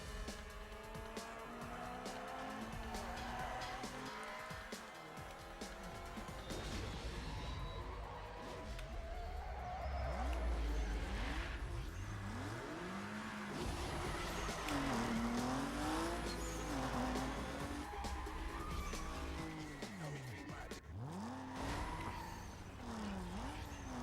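A Mitsubishi Evo races in Need for Speed Most Wanted. Its engine drones loudly and steadily throughout, with rising and falling revs, repeated tire squeals and skids, and dense game sound around it.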